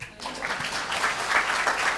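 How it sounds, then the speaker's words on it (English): Youth conference audience clapping for one another, a short burst of lively applause with voices mixed in. "Clap for one another."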